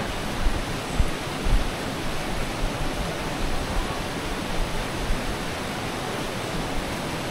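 A waterfall at Canding in San Clemente, Tarlac pours in a dense, continuous rushing roar. The hiss is steady and broadband, with a few soft low thumps early on and no voices.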